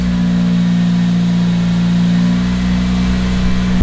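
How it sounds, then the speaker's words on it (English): A Toyota Celica GT-S Turbo with a newly installed alternator idles steadily nearby, its engine giving a loud, even hum that stays constant throughout. "So you try to start the car. Oh, well now it works."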